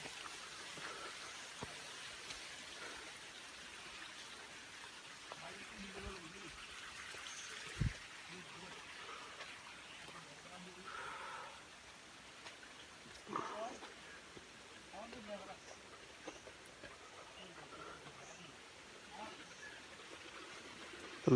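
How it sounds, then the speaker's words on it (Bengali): Water from a hillside waterfall on Chandranath Hill rushes as a broad, steady hiss in the background, faint and distant, with scattered rustles and footsteps and occasional low voices nearby. "এখানে পানির শব্দ শোনা যাচ্ছে"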